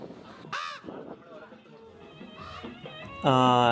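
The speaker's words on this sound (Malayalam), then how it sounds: "ഇത് നമ്മൾ മുമ്പേ കണ്ട കാക്കയാണ്" A crow caws twice, once briefly early and again loudly at the end, with soft talking and background murmur in between.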